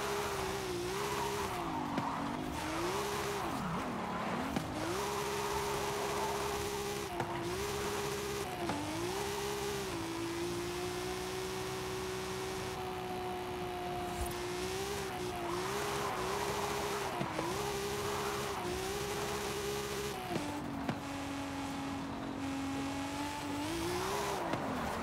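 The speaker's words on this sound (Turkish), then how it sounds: "Turbo seslerini duyuyorsunuz umarım." A turbocharged Nissan 200SX S14 drifting in a racing video game, its engine revving and holding steady harmonic pitches with repeated throttle lifts and turbo sounds, plus tire squeal, continuous and loud throughout.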